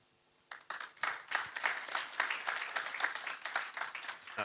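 Audience applause at an international scientific conference session breaks out after about half a second of quiet, a steady dense clapping from a room of people thanking a presenter, moderately loud and sustained to the end.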